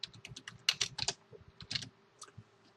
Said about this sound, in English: So if I type in my slideshow